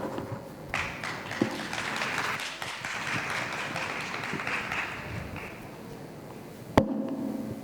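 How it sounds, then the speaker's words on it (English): An audience claps together after a presentation at a tourism and MICE awards event. The dense, steady applause fills the room for several seconds and then breaks off in a sharp thump near the end. "Maybe we could give once more applause to Sparkling My City."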